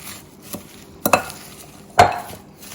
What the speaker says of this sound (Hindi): इन सब चीज़ों को आप अच्छी तरह मिक्स कर लें।